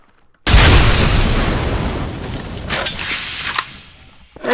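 Rocket launcher explosion in Garry's Mod, a sudden loud blast bursting out of near silence and decaying into a long rumbling tail with smaller pops and debris crackles, ending on a fresh rising thud.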